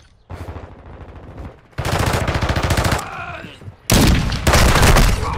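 Rapid automatic gunfire from Call of Duty: Modern Warfare II multiplayer, a sniper match played on PS5, comes in loud, dense bursts separated by short pauses, close and punchy, with faint game voice callouts between volleys.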